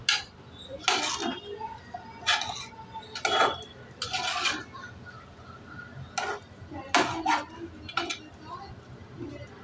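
Mixed vegetable bhaji stirred in a pot, with a spoon clinking and scraping against the metal in irregular bursts under someone speaking Marathi.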